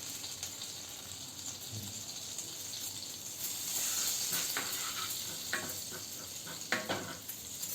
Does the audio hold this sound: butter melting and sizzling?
yes